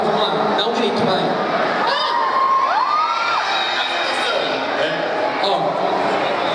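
A large crowd at a K-pop workshop during an anime festival in Campinas lets out a loud, sustained collective shout, with children's high-pitched cheers and whoops rising above the roar throughout.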